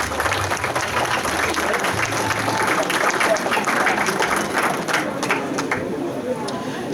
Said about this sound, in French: Je vous demande de l'applaudir encore très fort.